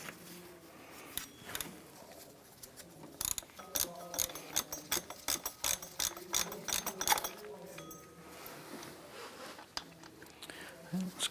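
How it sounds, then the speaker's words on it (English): A ratchet with a deep 12mm socket works loose a lower power steering pump bolt on an Acura TL, giving a quiet, irregular series of clicking pawl sounds with brief pauses in between. "We're going to use a deep 12mm socket and get to our lower power steering pump bolt."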